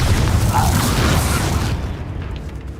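Heavy low boom of the Confringo explosion spell in Hogwarts Legacy, loud and full, rumbling for over a second before dropping away into quieter game ambience.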